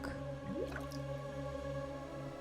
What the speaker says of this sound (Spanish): un poco hacia adentro, el agua empezó a burbujear. Gluc, gluc, hacía.